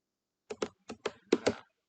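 Six crisp keystrokes on a computer keyboard, close and clear, come in quick pairs with short pauses between them against silence.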